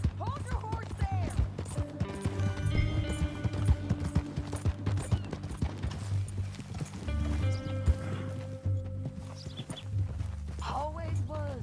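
Horse hooves clop along a dirt trail in the Western game Red Dead Redemption 2, a steady walking rhythm mixed with a whinny, game music and characters talking over the hoofbeats.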